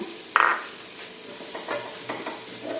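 A short burst of sizzling as chili hits a hot pan for stir-frying, followed by quieter hissing and light stirring scrapes.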